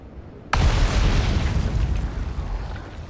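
A sudden loud boom erupts on Brittle Hollow in the Outer Wilds video game, then rolls on as a heavy rumble that slowly fades over a few seconds, with no talk.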